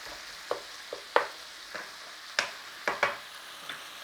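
Beef fries in a single pot on a stovetop, with a stock cube added, under a steady low sizzle broken by about eight sharp utensil scrapes and clacks at uneven intervals.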